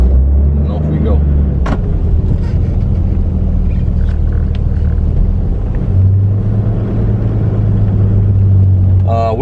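A Toyota Land Cruiser HDJ81V with its 4.2-litre 1HD-T turbo diesel, in excellent condition, pulls away from a stop, a loud close low engine rumble that deepens and steadies as it gets under way.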